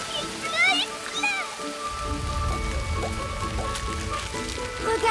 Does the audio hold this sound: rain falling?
yes